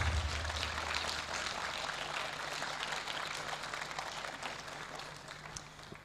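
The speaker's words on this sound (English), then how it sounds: "Let's clap until he sits." Audience applause at a space expo and conference in Kenya, a soft, steady patter of clapping from a crowd that gradually thins and fades over several seconds.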